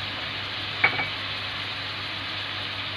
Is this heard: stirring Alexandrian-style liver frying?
yes